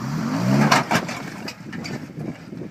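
An off-road vehicle's engine revs hard while a Core 44 axle is strained under load, the roar surging and easing in uneven bursts with crunching and scraping mixed in, close by.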